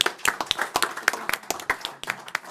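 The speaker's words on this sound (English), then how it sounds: "Let's give them a round of applause." Several pairs of hands clap in an irregular patter of sharp, distinct claps, a small group applauding nearby.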